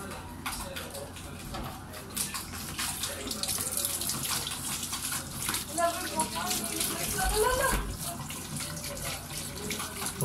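Tap water runs steadily over an electric fan blade being washed of old grease in a sink, a close, continuous splashing stream with small clattering handling sounds.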